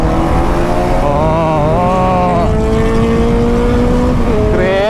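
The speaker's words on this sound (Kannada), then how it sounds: "ಇನ್ಲೈನ್ 4 ಸೌಂಡ್ ಮುಂದೆ ಯಾವುದೇ ಎಕ್ಸಾಸ್ಟ್ ಹಾಕಿದ್ರು ಏನಿಲ್ಲ ಗುರು. ಇನ್ಲೈನ್ 4 ಸಿಂಫೋನಿನೇ ಒಂಥರ ನೆಕ್ಸ್ಟ್ ಲೆವೆಲ್." A Kawasaki Z900 inline-four with an Arrow exhaust roars loud and steady at close range, its pitch climbing and falling as the throttle rises and eases, on a breakfast ride.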